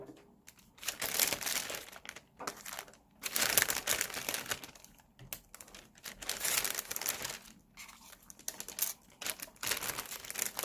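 Bubble skin kit materials are unpacked, with plastic packaging crinkling and rustling in irregular bursts separated by brief pauses, close and moderately loud.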